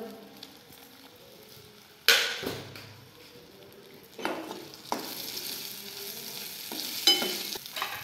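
Stuffed green lavangi chillies pan-fry and get turned over in a pan, giving a soft steady sizzle broken by several louder scraping stirs and clatters, with no talking.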